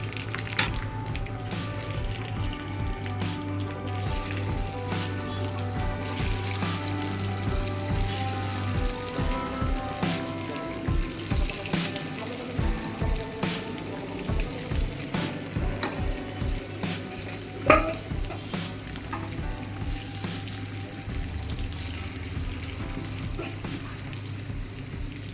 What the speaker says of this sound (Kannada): ತೆಂಗಿನೆಣ್ಣೆಯಲ್ಲಿ ಫ್ರೈ ಮಾಡೋದು